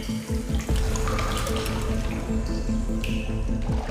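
Water in a dark cenote as an explorer descends into it, a steady close splashing and trickling with dripping and occasional sloshes, no talk.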